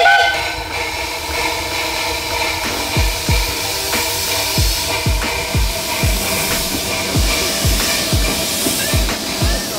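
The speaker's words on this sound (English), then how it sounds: "On the third platform, there's a train just about to depart" A miniature railway train departs at Ruislip Lido Railway, rumbling steadily with rhythmic clacking of wheels over rail joints, loud and close, with a faint whistle-like tone running through it.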